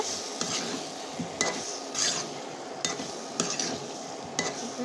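Whole potatoes sauté with spices in a pan for a Bengali aloo dum, producing a steady sizzle punctuated by regular metallic scrapes and clanks as a spatula stirs, all up close and without talk.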